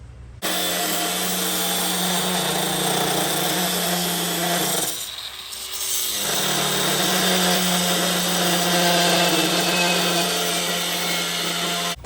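A power tool whines steadily as it cuts a section out of a chopper motorcycle's sissy bar rail. The loud, close, continuous drone dips briefly in the middle before resuming at full level, with no talking.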